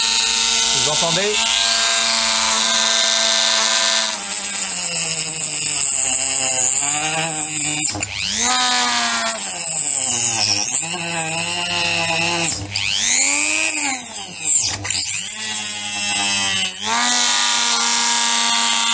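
A Parkside PFBS 160 B2 precision drill grinder running continuously, a loud high-pitched motor whine that rises and falls in pitch as the load changes, with someone talking over it.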